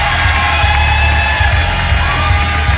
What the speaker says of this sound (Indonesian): Tepuk tangan sekali lagi untuk tim merah dan tim biru.